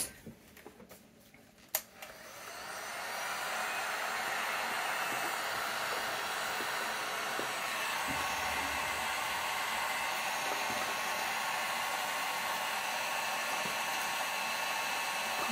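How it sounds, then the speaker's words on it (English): A heat gun used for sublimation on a tray starts after a few clicks and handling noises, then blows a steady, close airy roar that continues unchanged to the end. "get your heat gun back"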